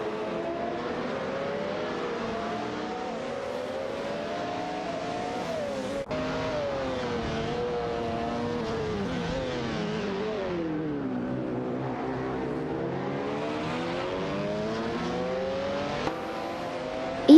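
Race car engines in a video game race whine steadily with shifting pitch as cars accelerate, gear up and overtake one another, a continuous layered drone with no voices.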